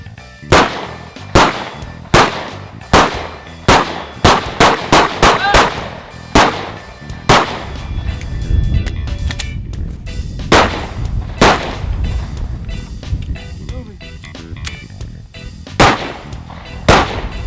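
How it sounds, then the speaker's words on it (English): Handgun shots fired at an outdoor range during a moving-while-shooting drill, sharp cracks in irregular bursts, some in quick succession, with a rumbling low background and a pause in the middle. "And then we incorporated even more moving while shooting."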